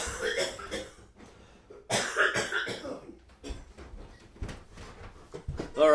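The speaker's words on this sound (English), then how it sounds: "just give me 1 second to clear my throat here" A man clears his throat with a series of close, harsh coughs and rasps in short bursts, separated by brief quiet pauses.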